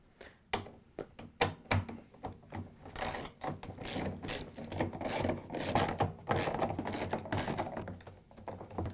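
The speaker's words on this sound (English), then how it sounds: "we're going to take our 10mm socket and go around and take all the screws out." 10mm socket ratchet removing the tub screws on a Samsung washing machine, with rapid clicking strokes close by, followed by denser scraping and clattering as the screws come out.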